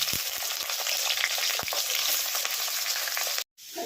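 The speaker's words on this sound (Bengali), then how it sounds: "আগে আমি আলুগুলোকে একটু ভালো করে ভেজে নিচ্ছি।" Potatoes fry in hot white oil, a steady dense sizzle with faint stirring clicks running close and alone before cutting off abruptly near the end.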